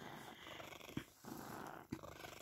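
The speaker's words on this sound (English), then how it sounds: "Purr, purr, purr." A cat purring close by, a soft, steady rumbling purr with two brief louder snort-like breaths, and no talk.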